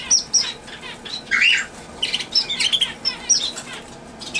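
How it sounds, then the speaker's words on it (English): Small red waxbills kept as pets chirp in quick, high bursts with brief wing flutters, several close calls overlapping in a busy, steady chatter. "I think they're called red waxbills"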